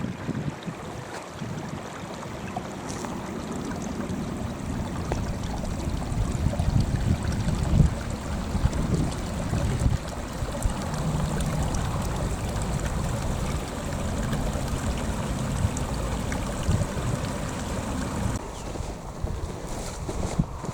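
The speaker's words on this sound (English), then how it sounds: "So a lower down perspective on one of these mountain streams." A mountain stream in Fforest Fawr flows with a steady, low rushing of water, mixed with gusting wind noise on the microphone throughout, and no voices.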